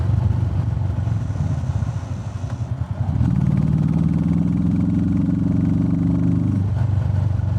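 Royal Enfield Meteor 350 single-cylinder motorcycle fitted with a DNA air filter, its engine running steadily, then swelling into a louder, deeper, sustained roar for several seconds before easing back; no talking.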